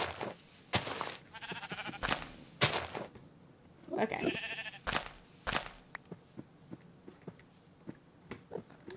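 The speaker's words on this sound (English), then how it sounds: "My loyal sheeps are still here." Several sheep bleat in Minecraft gameplay, the wavering blocky bleats coming in a few clear bursts among soft thunks and clicks, with a brief spoken word.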